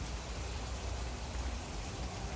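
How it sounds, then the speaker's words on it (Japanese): Heavy rain pours down outdoors during a windy storm, a steady dense hiss of falling water with no gaps, close and moderately loud, without speech. "すごい雨やね。"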